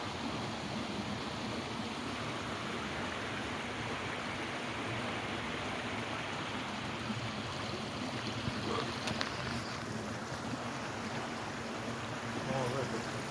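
A waterfall near an old stone dam on a rainy walk gives a steady, broadband rushing roar, constant and fairly loud throughout with no talking.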